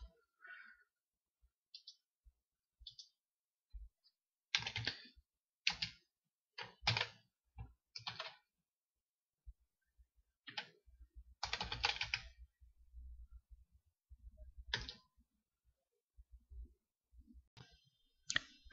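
Bursts of clicky computer keyboard typing entering a command at a prompt, irregular clusters of keystrokes separated by pauses, close and fairly quiet.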